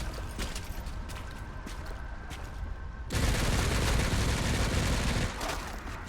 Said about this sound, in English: There's shooting zombies down here?